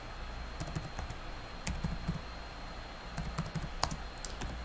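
Typing on a computer keyboard while entering text in AutoCAD, with clusters of quick, close key clicks in short bursts over a steady background hiss.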